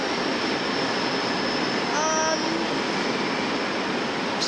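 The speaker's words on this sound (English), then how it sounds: "there's a freight train going through there" A freight train passes through a Melbourne station with a loud, steady rumble, and a short high squeal rings out partway through.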